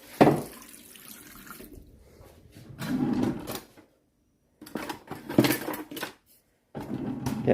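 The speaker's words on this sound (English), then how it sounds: "now we're going to add the 3 litres of water" Water from a tap runs in intermittent bursts into a container of chickpeas set to soak with chopped chili, with clunks and pauses between fills, close by.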